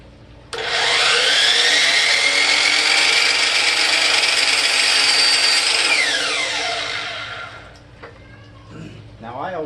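A power saw cuts the square top of a baseboard profile for a cope joint: a loud, steady motor whine starts abruptly, runs for about six seconds, then winds down, with a few faint sounds trailing after.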